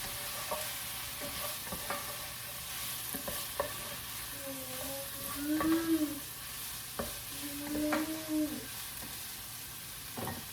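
Sweet sausage and onion sizzle in a pan for creamy potato soup, a soft steady fry broken by the scrape and clatter of tossing every few seconds, with a faint whistling tone in the middle.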